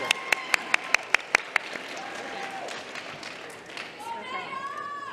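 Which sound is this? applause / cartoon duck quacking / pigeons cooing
applause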